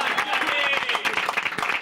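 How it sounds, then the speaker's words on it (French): Studio audience on a sports news show applauding a cycling race winner, brisk continuous clapping from a small crowd, close and fairly loud, with a voice talking faintly over it. "Applaudissements."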